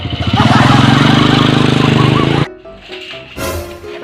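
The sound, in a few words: old motorcycle engine running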